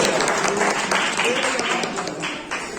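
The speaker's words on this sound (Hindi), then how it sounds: "जोरदार तालियां इनके लिए" Applause at an award and retirement ceremony held by a Garhwal kirtan mandal and Ramlila committee, a crowd clapping close and loud while a voice speaks over it.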